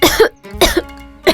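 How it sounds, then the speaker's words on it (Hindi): Three sharp, harsh coughs come in quick succession, loud and close, with brief pauses between them. "तुम्हें भी तो खांसी हुई है"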